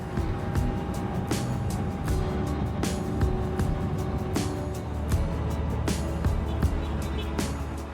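A small 125cc motorbike rides along a tarmac road, its engine droning steadily beneath broadband wind rush, with repeated sharp buffeting bursts close to the microphone.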